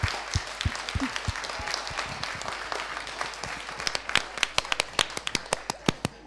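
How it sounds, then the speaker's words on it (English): A live audience applauds to cast a not-guilty vote on a product: scattered claps build into a ragged round, then thin out into separate sharp, louder individual claps near the end, moderately close, with no talking. "Applaud if you think it's not guilty."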